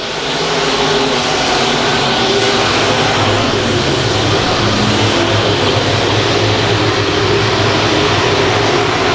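Stock cars and sport modifieds roar around the I-35 Speedway dirt oval on the first lap of an A-main, a dense, steady wall of engine noise staying loud from start to finish.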